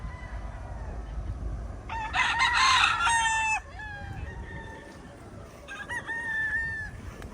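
Chickens cluck and a rooster crows loudly in a backyard range area for young chicks, the crowing in a long burst near the start with more calls afterward, close by over faint background.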